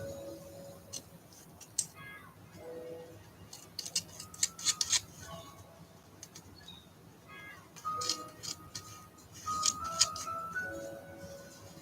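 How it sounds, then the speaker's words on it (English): Cheap scissors snip in scattered bursts of short metallic clicks and scraping cuts, up close, separated by quiet pauses while a doll is crafted. "scissors, man. These are shit ones."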